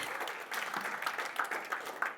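An audience at a work-based trainer event claps steadily and fairly softly for about two seconds, a dense patter of hands with no voices over it.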